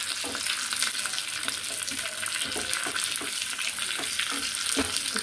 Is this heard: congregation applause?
no